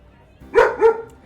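Two sharp, close barks come in quick succession from Laika, a pet dog, loud against a quiet room with no voices.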